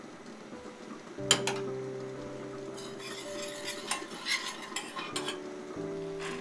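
A spoon stirs soy sauce, sake and sugar in a small saucepan, with light metallic clinks and scrapes against the pan over a soft sizzle, close and quiet.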